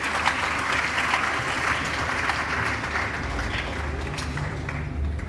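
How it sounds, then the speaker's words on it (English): Sustained applause from a large audience at a university congregation ceremony, a dense steady clatter of many hands that holds throughout at an even level. "Shall we please applaud him?"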